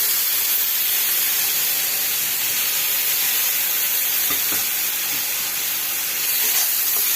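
Water sprinkled by hand onto a frying peanut mixture for Satara-style mhadya raises a loud, steady hiss and sizzle from the pan that fills the whole stretch with no voices.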